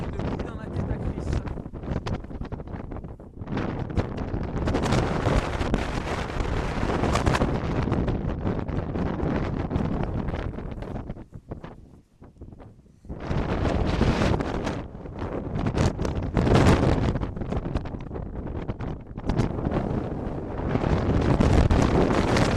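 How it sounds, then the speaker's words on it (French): Strong wind blowing outdoors during a November storm in the Languedoc region of France, roaring loudly into the microphone in heavy gusts with a brief lull midway; voices are faintly audible at times. "Le vent continue de se renforcer"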